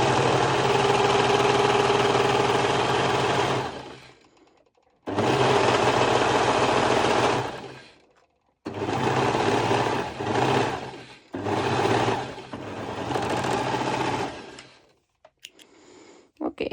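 A serger overlocks two layers of fabric for a ruffled underwire top, running loud and close in four long bursts with short pauses between, then stopping, with a few small handling sounds at the end.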